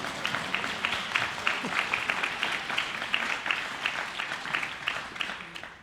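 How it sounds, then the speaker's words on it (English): An audience applauds steadily throughout, a dense patter of many hands clapping at a moderate distance. "You can applaud."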